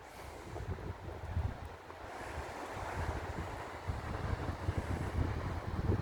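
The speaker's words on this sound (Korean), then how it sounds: "파도가 역시 세네요" Heavy surf rolls in continuously on a pebble beach, a deep rumbling wash of waves with wind noise, loud and steady throughout with no voices.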